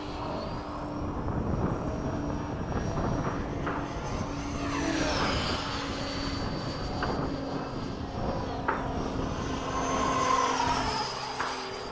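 A Freewing 90mm F/A-18C RC model jet at half throttle passes with a steady whining engine roar, rising and falling as it moves around the sky outdoors.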